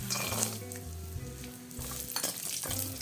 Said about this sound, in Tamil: அதே எண்ணெயில் நான் வந்து பூண்டை வறுத்துக்கிறேன்